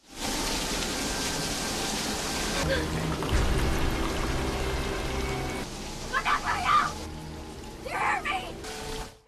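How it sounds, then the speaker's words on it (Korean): Fire hose water gushing into an elevator in a film scene, a dense rushing pour with spattering bursts toward the end, partly under a narrator speaking. "놀랍게도 톰은 안젤라가 타이는 엘리베이터에 물을 틀어버립니다"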